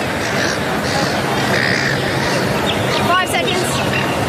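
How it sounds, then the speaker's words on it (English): Seagulls call from the ground during a women's Test match between Australia and England, caught on the stump microphone, with a few short cries rising over a steady crowd hubbub, strongest near the end. "The Seagulls were all we could hear."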